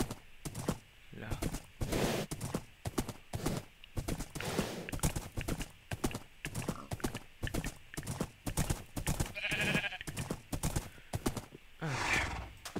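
A horse walks in the Minecraft video game, its hooves clip-clopping in a steady, dense rhythm throughout, loud and close, with a brief whinny-like sound near the end.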